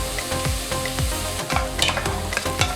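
Oil sizzles steadily with softened onions as sharp little pops of brown mustard seeds burst at irregular intervals, close and fairly loud, no voices.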